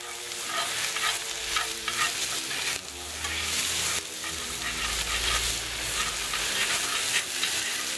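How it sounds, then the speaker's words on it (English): Onion, celery and red bell pepper sautéing in a pan, a steady loud sizzle with utensil stirring and scraping running throughout, no talking. "We're going to get that sauteed up a little bit."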